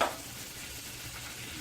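Butter sizzles in a hot Red Copper pan, a close, steady hiss that fades slightly after a brief first burst.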